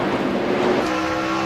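NASCAR stock cars race at the 2002 Pontiac Excitement 400, a loud, continuous roar of engines running together on the track with no break.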